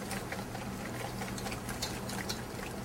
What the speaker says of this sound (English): we're going to add our condensed milk. Also continue to whisk.